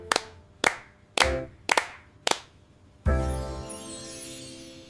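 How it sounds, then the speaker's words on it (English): Hands clap five times in a steady, evenly spaced rhythm in a children's kitchen dance song, each clap sharp and close, followed by a louder sustained burst of music. "Clap, clap, clap, feel so glad."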